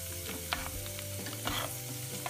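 Tulsi leaves hit hot herbal hair oil with an immediate close sizzle and bubbling, along with stirring scrapes and soft clinks from the pan, and no talking.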